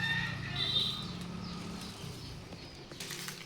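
Chickens on a village farm cluck and call close by, a steady mix of fowl sounds with possible wing flaps, with faint voices in the background.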